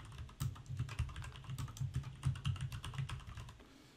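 Rapid computer keyboard typing enters a footer into a PowerPoint presentation, a close, steady run of crisp key clicks lasting a few seconds with a brief pause near the start.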